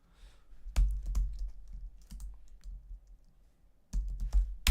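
Keys clattering on a computer keyboard during a geography typing quiz, with bursts of quick close-up keystrokes separated by pauses and no voices over them.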